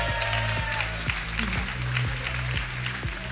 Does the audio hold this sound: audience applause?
yes